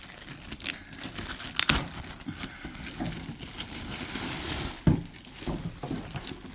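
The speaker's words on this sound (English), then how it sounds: "the plastic bag is stuck to the plastic shrink wrap, so let's get rid of the plastic bag as well" A plastic bag is crinkled and peeled away from the shrink wrap on an anime figure, giving close, irregular rustling and crackling with a few sharper crinkle bursts over several seconds.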